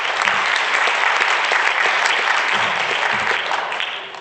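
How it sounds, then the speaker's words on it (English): An audience at an Africa Day event gives a round of applause: dense, close clapping that holds steady for a few seconds and then begins to taper off. "Yes, another round of applause,"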